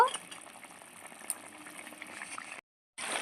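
Fish curry with eggplant bubbling in a pot, a soft steady simmer of popping bubbles close by, briefly cutting out before resuming.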